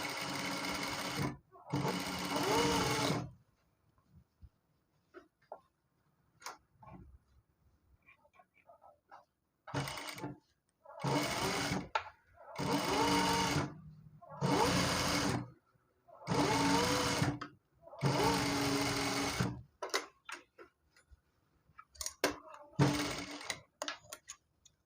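Sewing machine stitching a gathered pant, running in several short bursts separated by quiet pauses, close and clear, with a few soft handling clicks between runs.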